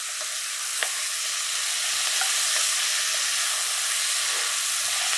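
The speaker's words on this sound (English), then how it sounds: "Once the sizzling stops, I'll turn the heat back on." Steady loud sizzling of venison frying in hot oil, a continuous crackling hiss with occasional small pops, close up.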